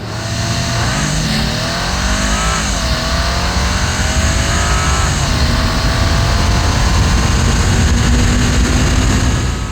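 A new Bentley Continental GT Speed roars loudly as it accelerates hard, climbing in pitch through several gear changes with a sustained powerful drone.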